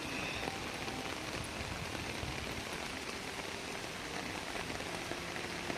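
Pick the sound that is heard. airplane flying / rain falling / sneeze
rain falling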